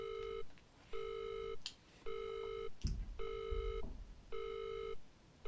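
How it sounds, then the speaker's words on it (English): A telephone in the horror video game Visage rings in regular repeating electronic ring bursts with short pauses between them, clear and alone, with a few faint clicks and thumps. "Okay, let's hang up the phone."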